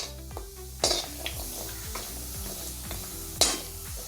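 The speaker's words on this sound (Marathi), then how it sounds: "हे सगळं आपल्याला मोठ्या गॅसवरच तळून घ्यायचंय तेलामध्ये।" Turmeric root frying in oil over a high flame for a homemade spice masala, a steady close sizzle with a spoon stirring and scraping the pan, plus two brief sharp metallic clanks.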